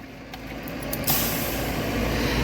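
A close, continuous hiss of water jetting onto a car's wheel rim, building and then holding steady and loud with no voices.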